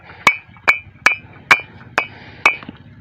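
A second-grade brick is struck six times at an even, steady rhythm, each knock a sharp, close, ringing clack that dies away quickly, with no talk over it.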